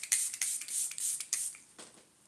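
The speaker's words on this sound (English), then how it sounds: "This is the One Size Powder Melt Glass Setting Spray." A makeup setting spray misted onto a face: a series of short, close, hissing bursts in quick succession, tapering off into quieter puffs, with no talk.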